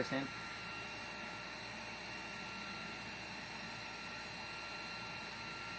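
A steady, loud whoosh of a fan running at full speed, an even broadband rush with no change throughout.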